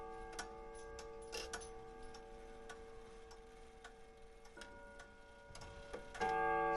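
Antique 1930s Fasco wall clock ticking softly and steadily at the top of the hour, a faint mechanical rhythm over low background hum, with a sudden rise in background noise near the end.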